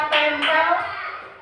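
Children in a classroom burst into applause, a loud close patter of many hands clapping together that fades out within a second or so, with faint voices mixed in.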